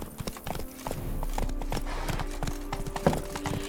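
Horse hooves gallop in a steady, quick clip-clop rhythm in The Witcher 3, loud and close, with a short whinny-like accent near the end and no talk over it.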